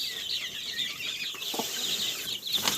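A farmyard chicken clucking and flapping its wings close by, with a few sharp high clucks and brief bursts of fluttering over a busy outdoor background.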